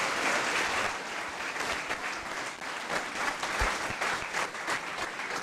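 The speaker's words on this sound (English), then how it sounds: "can we have a big round of applause for these young men on stage?" An audience claps warmly and continuously, a full round of applause that rises and falls slightly before tapering.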